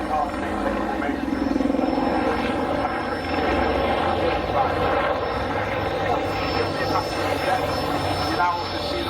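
A Wildcat helicopter performs at the Cosford Air Show, its rotor and engine drone steady and fairly loud throughout, with an announcer talking over it.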